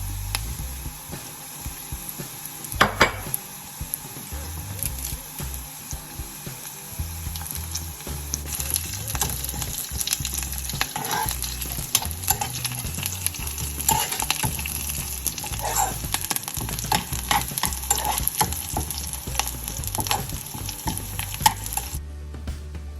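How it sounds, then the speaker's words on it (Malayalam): Small shallots and curry leaves sauté in oil in a pan for an egg roast, giving a continuous close sizzle with repeated scraping stir strokes and a few clinks of the spoon against the pan. "ഈ കുഞ്ഞുള്ളി നല്ലതായിട്ട് നമുക്കൊന്ന് വഴറ്റിയെടുക്കാം. ഓക്കെ, ഇനി ഞാൻ കറിവേപ്പില ആഡ് ചെയ്യുക."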